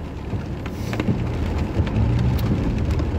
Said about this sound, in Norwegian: Som dere ser da, så regner det.